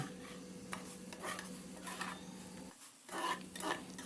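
Khoya kheer is worked into chhana in a pan with faint, quiet scraping and stirring, and soft utensil clinks come in intermittent bursts.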